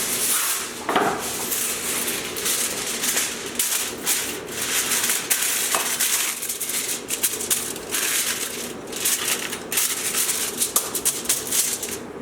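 Reynolds Wrap aluminum foil is pulled out and torn on a kitchen counter, making crinkly rustling and crackling bursts that run steadily throughout, close and moderately loud, with no talking.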